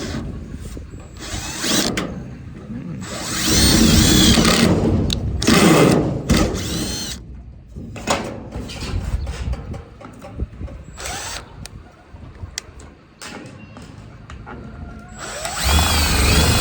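A power drill drives stitch screws into reclaimed material while a water catchment is being built. Bursts of loud, close whirring and grinding come and go over about seventeen seconds, amid rattling handling noise, with no speech.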